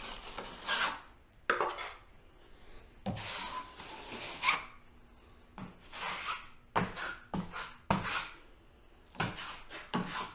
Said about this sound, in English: What I'm doing now is just getting the thin down joint compound on the wall.